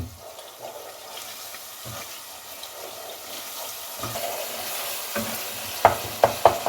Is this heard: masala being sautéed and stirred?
yes